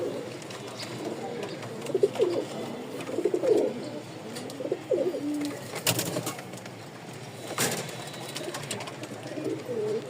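A male pigeon coos nearby in a series of soft, throaty, rolling calls, with light background noise and occasional clatter.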